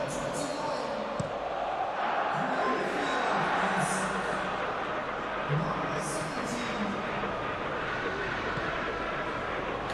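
Stadium crowd noise from a football match in the PES 2021 video game, a steady roar of cheering and applause swelling throughout, loud and continuous beneath a commentator's voice.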